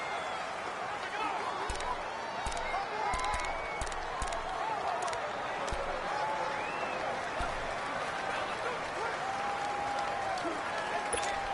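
Steady stadium crowd roar from a football video game on PS4, a constant dense wash of home-field noise with scattered sharp claps and pops throughout.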